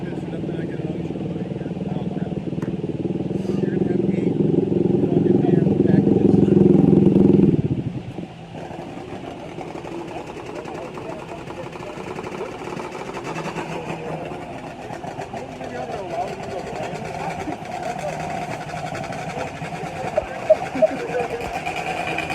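ATV drag racing engines at Dome Valley Raceway in Arizona, a loud rising engine roar that cuts off sharply, followed by a lower steady engine drone with an announcer talking over it.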